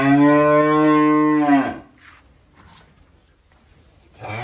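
A single cow at a breeding cattle farm in Vĩnh Long lets out one long, loud, close moo lasting about a second and a half, followed by quiet farm background.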